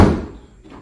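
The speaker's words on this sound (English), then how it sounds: "Opening doors, closing doors, making sure that they don't stick" A house door is swung and bumps shut with one loud, close thud that rings out and fades, followed by a faint soft knock, checked during a home walkthrough for sticking.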